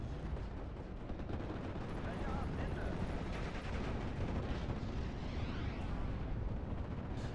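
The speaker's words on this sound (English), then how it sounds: "Seeing that, I call in an airstrike. Actually, 2 of them." Airstrike explosions in Steel Division: Normandy 44 rumble steadily, a dense barrage of low booms and crackling blasts rolling on without pause, loud and continuous.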